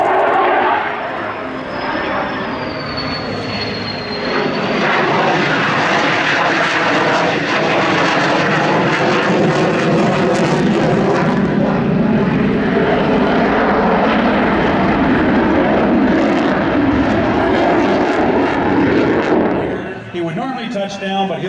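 An F-16 fighter jet comes in to land at the Abbotsford Airshow 2024, its engine roar loud and sustained for about twenty seconds before dropping away, with a high whine early and an announcer's voice over it.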